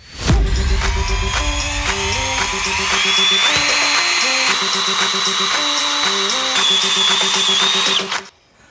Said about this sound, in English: climb underneath, and let's drill that hole out to a 1/2-inch hole